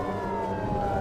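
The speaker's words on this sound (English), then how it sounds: "we've got police sirens in this drag race" Police sirens wail at a dragon boat rowing race on the water at Nathan Benderson Park, a short steady rising tone over a low rumble of background noise.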